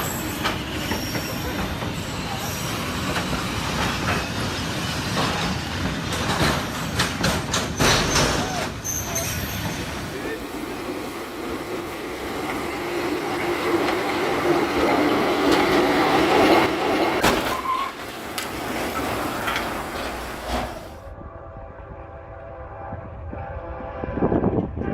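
Train rushing past a parked truck sitting close to the tracks in Hanoi, Vietnam: loud, continuous rumble and rattle of rail cars with wheel squeal, swelling midway and then cutting to a quieter passage near the end.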